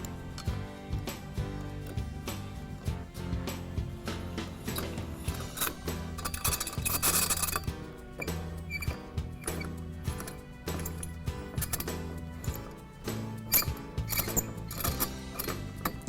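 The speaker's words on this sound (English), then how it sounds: "we'll take our bolts and thread them in one by one" Bolts being threaded one by one into the base plate of an 80/20 leveling caster, a steady run of small metallic clicks and ratcheting ticks, close and moderately quiet, with no talk.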